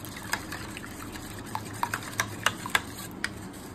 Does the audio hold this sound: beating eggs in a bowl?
yes